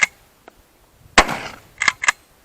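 A Derya MK12 12-gauge shotgun fires outdoors: a single sharp close blast with a short ringing tail, followed by a few fainter metallic clacks of the action cycling.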